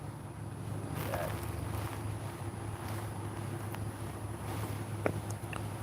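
Wind gusting off Lake Michigan at night, a steady low rumbling buffet with faint distant water and background sounds, fairly quiet and continuous.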